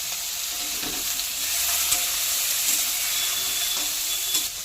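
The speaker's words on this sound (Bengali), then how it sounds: "এবার এঁচড়টা ভেজে নেব।" Young jackfruit fries in oil with turmeric, giving a steady close sizzle and hiss with faint stirring, heard alone without voices.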